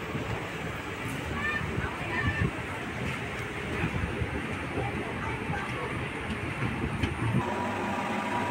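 A passenger express train rolling past Tindivanam railway station, heard from on board as a steady loud rumble with rattling and faint rhythmic clatter, a voice talking over the noise.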